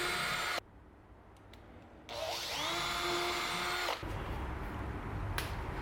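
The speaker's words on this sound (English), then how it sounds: "drill out the screw pilot holes before you grab your chisel" A power drill whines at rising speed for a couple of seconds in short bursts, drilling screw pilot holes for a door handle, with broadband rushing noise before and after.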